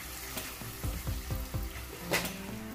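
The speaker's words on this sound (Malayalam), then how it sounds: "അപ്പോൾ കുറച്ച് പപ്പടം പൊരിച്ചെടുത്തു." Pappadam fries in hot oil for a home chicken biryani meal, a steady close sizzle broken by several sharp crackling bursts as each piece puffs, with no voices.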